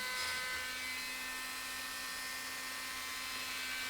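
A high-pitched whining machine tool works the cylinder liner ports of a Yamaha 9.9D outboard motor block, a steady continuous buzz with no talk.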